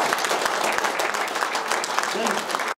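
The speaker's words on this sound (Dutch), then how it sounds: "Dames en heren, applaus voor de Nederlands kampioen." Applause for a Dutch racing champion at a team presentation, steady crowd clapping sustained throughout and cutting off abruptly at the end.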